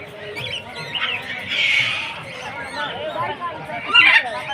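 Parrots and other birds in a park bird house give loud, overlapping squawks and chattering calls, with a harsher burst near the end, all close by under a lively aviary din.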